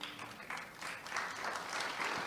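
An audience at an agricultural summit applauds steadily, a dense sustained clapping that swells slightly toward the end, with no speech over it.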